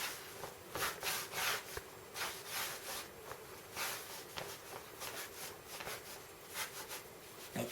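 Biscotti dough rolled by hand on a work surface, a soft rhythmic rubbing and scraping in repeated strokes that keep going at a steady pace, close by and fairly quiet, with no talking.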